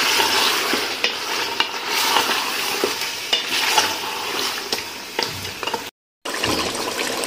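Mutton with yogurt being sautéed in a pot for palak gosht: continuous frying sizzle with frequent scraping stirs and clanks of a spoon against the pot, close, with a brief silent break near the end.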